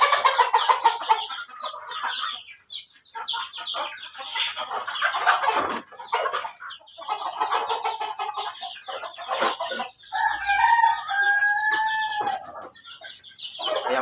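Free-range native village chickens cluck busily and repeatedly at close range, with a rooster crowing in long wavering calls toward the end.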